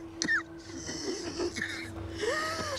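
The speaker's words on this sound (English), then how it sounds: "She's having trouble breathing." A woman struggling to breathe gives labored, wheezy gasps and rasping breaths, close and fairly faint over a steady low hum, in a Star Trek: Discovery scene.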